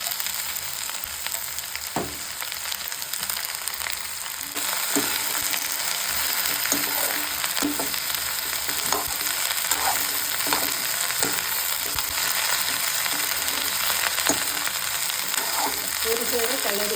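Sliced okra frying in a pan with onion and curry leaves, a steady close sizzle with frequent crackles and pops and occasional stirring scrapes, no talking.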